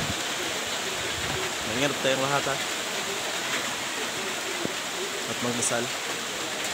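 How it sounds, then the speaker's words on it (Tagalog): Typhoon Odette's heavy rain and gusting wind roar steadily in a constant wash of noise in the Philippines while a person speaks in Tagalog under the downpour. "Bakas na po ang hangin at ulan."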